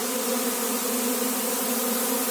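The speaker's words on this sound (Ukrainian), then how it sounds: "Така маточка кружляє." A queen bee buzzes steadily nearby, its droning hum holding at an even pitch as it circles in flight.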